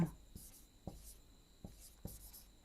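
Chalk or marker tapping and scratching on a classroom board, four short sharp strokes spaced about half a second apart, faint and close, with a steady electrical hum behind.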